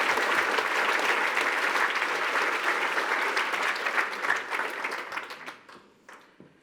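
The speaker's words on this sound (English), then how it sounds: "Big round of applause for Jemiah." Audience applause at a software conference opening keynote in London, a loud, dense round of clapping from a large crowd that holds steady, then thins and fades out over the last couple of seconds.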